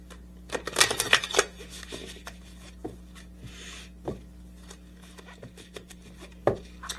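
Tarot cards are shuffled and handled close by, with a cluster of soft riffling and sliding taps early on, then sparse quieter card flicks and rubs against a low background hum.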